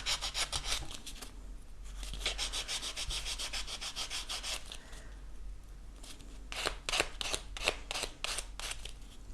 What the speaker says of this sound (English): you're going to sand it with the relief block